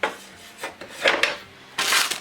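Griddle tray of a ZStar indoor grill and air fryer being slotted into the base: a few short scraping and clunking contacts of metal and plastic, close and fairly quiet, with a louder rubbing slide at the end.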